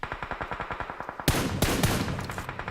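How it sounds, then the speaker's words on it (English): In PUBG Mobile, a steady run of rapid gunfire shoots out a vehicle's tires, and the even pulses give way to a few louder, denser bursts near the end. Nobody speaks. "He does shoot those tires out"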